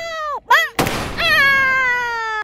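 A toy gun aimed at a toy zombie fires with a sharp, loud broadband burst, set between bright electronic warbling tones that sweep and hold steadily before and after the shot.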